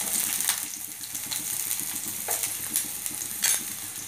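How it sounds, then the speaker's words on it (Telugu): Chopped onion and green chili pieces fry in hot oil, giving a continuous close sizzle with a few brighter stirring scrapes on top, steady and without talk. "పచ్చిమిరపకాయ ముక్కలు వేసి దోరగా వేగించుకోవాలి"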